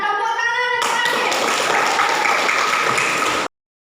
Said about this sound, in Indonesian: Tepuk tangan yang terakhir.